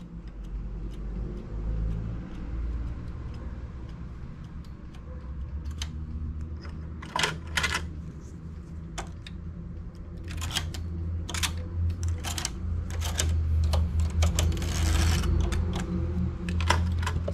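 A knitting machine carriage slides across the needle bed with sharp clicks and clacks that come in bursts over a low mechanical rumble, growing busier toward the end.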